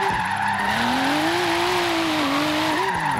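Tyres squealing continuously as a 748 hp RB26-swapped Volvo 850R drifts in Forza Horizon 3, a loud sustained screech over a revving engine that rises and dips slightly in pitch.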